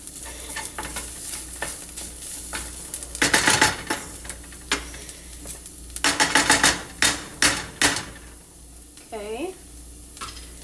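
Vodka-free pasta sauce cooking in a pan, with bursts of sizzling and frying as it is stirred, spoon scrapes and clatter against the pan, and a brief spoken word near the end.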